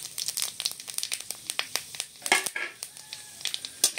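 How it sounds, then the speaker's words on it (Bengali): Panch phoron five-spice seeds frying in hot oil for Bengali tamarind pickle, a rapid irregular crackle of sharp pops and sizzles, close and fairly loud with no voice. "এবার ভালো করে আমি ভেজে নিচ্ছি বন্ধুরা।"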